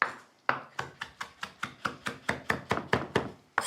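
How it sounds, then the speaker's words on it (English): A knife roughly chops oregano on a cutting board, about a dozen sharp, evenly spaced strikes, close and clear with no talking. "I'm just roughly chopping the oregano"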